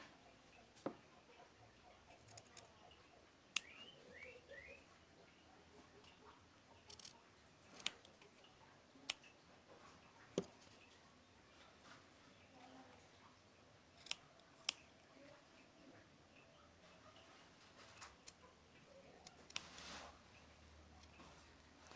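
Scissors snipping the corners of felt fabric for a handmade bag, quiet isolated sharp cuts spaced irregularly over a soft room background, no talking.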